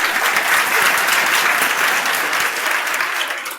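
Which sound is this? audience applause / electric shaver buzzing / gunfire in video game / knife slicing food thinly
audience applause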